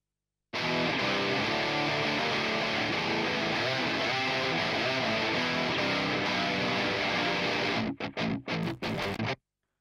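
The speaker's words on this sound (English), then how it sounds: "so those guitars are sounding pretty awesome" Soloed electric guitars in a live competition mix, dry with no EQ, playing a dense, steady distorted wall of sound before breaking into a few sharp stop-start chugs near the end, with no voices.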